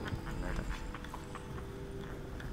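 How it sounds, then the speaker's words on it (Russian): Horse whinnying and clip-clopping hooves in the video game Dishonored, a steady close gait of hoofbeats under a continuous low ambient rumble, with no talking. "Она ржет."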